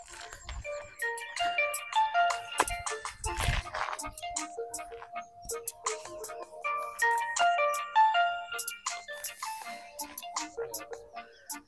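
A mobile phone plays a melodic ringtone during an indoor badminton game, its bright repeating notes going on steadily with faint court noises and clicks around it.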